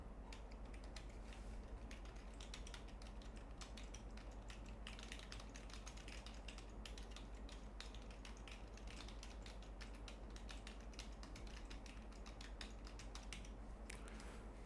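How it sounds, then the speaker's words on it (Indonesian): Continuous clicky tapping on a mechanical keyboard, picked up by a Fifine Ampligame A6 microphone, quick uneven keystrokes over a low steady hum, fairly quiet and without talk. "Jadi saya coba pura-pura lagi main game terus sambil mencet-mencet keyboard ya."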